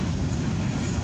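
A westbound CFE mixed freight and grain train rolls by with a low, steady rumble, moderately loud and unbroken through the short moment.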